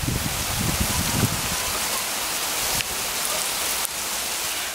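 March shower with hail in the UK, a dense, steady hiss of precipitation on surfaces, loud and close, with heavier patter at the start and no voices.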